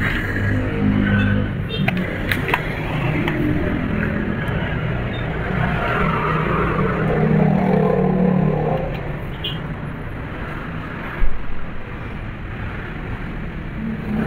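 A sewing machine motor runs with a steady, fairly loud hum, and a single sharp click cuts in near the end.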